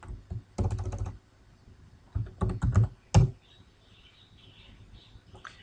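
Switch configuration commands are typed on a computer keyboard in quick close clusters of key clicks, separated by short quiet pauses, ending in a sharper keystroke.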